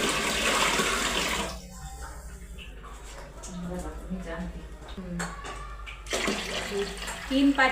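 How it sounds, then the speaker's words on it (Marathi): Water poured from a vessel into a large pot for soaking sabudana, a loud rushing pour at first that drops to a quieter trickle and splashes, then surges again near the end, with speech over it. "तीन पातेले पाणी टाकले"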